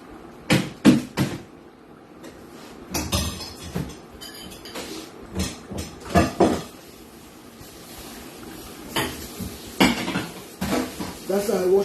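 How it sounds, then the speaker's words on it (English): Clattering of dishes, pots and cutlery being washed by hand, irregular clinks and knocks in bursts, close by, with voices talking in between. "That's how I wash my dishes."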